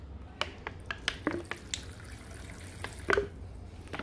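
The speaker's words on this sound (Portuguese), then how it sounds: "E esse aqui, eu vou adicionar aí o vinagre." Vinegar poured into a mixture of soil and water, giving scattered drips and small splashes that come close and fairly quiet over a soft background, with a brief louder splash near the end and no talking.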